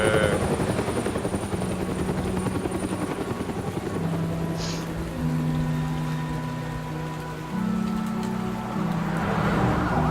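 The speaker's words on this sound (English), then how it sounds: "Helicopter." A loud, steady helicopter rotor thrum in Batman: The Telltale Series fills the whole stretch, with faint tonal game sounds rising and falling underneath.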